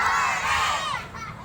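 A group of children at an Islamic storytelling event shout hooray together in one loud, sustained collective cry that tapers off near the end.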